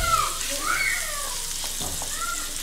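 Minced meat keema sizzles in about a spoonful of oil in a pan for keema-stuffed rose snacks, a steady close frying hiss with a few stirring scrapes, while a voice speaks over it.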